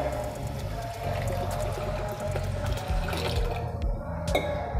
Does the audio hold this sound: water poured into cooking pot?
yes